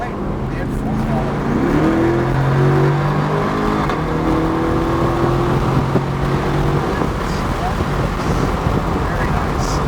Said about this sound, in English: Tracking out to the right, and full throttle.